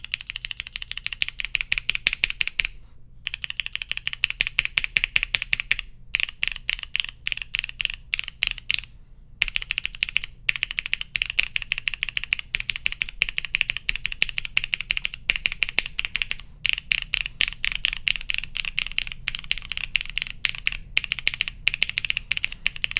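Rapid, close keystrokes clatter on a mechanical keyboard fitted with ABS and GMK keycaps. The typing runs almost nonstop with a few brief pauses, and no voices are heard.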